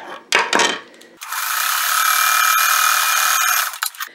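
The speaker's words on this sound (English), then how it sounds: "I'm just going to sew 1/4 inch, or in my case, I just use my foot as my guide" A sewing machine runs a steady quarter-inch seam on quilt sashing for about two and a half seconds, loud and close, after a few short handling knocks and before it slows and stops.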